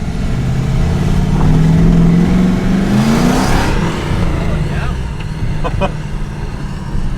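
A turbocharged 5.0 V8 swapped into a Ford Ranger truck drives along, its steady engine drone rising briefly as it accelerates, loud and close throughout, with a voice speaking over it.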